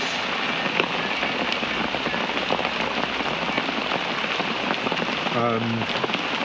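Heavy rain falls at a lake in France, a dense, steady hiss of drops pattering on surfaces, close and continuous throughout, with a brief tonal squeak near the end.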